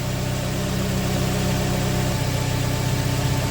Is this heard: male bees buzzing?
no